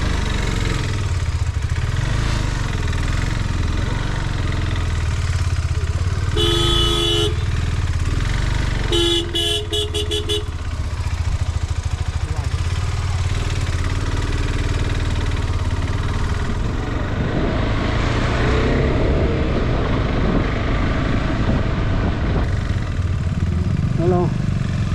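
A KTM 390 Adventure motorcycle rides through the mountains of Sikkim, its engine a steady loud drone throughout. A few sharp horn toots cut in partway through, and voices are faintly audible now and then.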